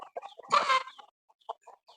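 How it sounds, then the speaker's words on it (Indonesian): Chickens clucking nearby from a chicken coop in short bursts, with one louder, busier flurry of clucks in the middle and softer scattered clucks after. "Soalnya sebelah sana ada kandang ayam."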